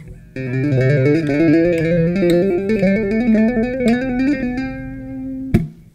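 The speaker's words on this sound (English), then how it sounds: "we're just going to learn to outline a simple major scale and run it on one string" A bass guitar plays a smooth ascending major scale of tapped notes on one string, steady and clear, ending with a sustained note and a sharp click.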